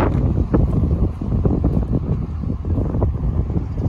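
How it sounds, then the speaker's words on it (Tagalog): Strong wind buffets the microphone in a steady, loud roar with gusty rumbling throughout, in a cherry blossom park. "Yan, lakas ng hangin."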